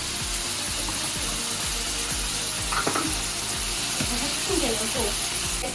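Tomatoes and onions fry with turmeric powder for kadai paneer, giving a loud, steady sizzle close by, with a regular rhythm of spoon scrapes and clicks against the pan throughout.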